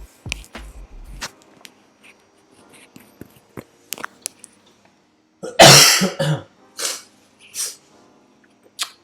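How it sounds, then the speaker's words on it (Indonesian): A few scattered throat sounds, then a loud burst of coughing, several harsh coughs in quick succession, close to the microphone. "Maaf, batuk sebentar."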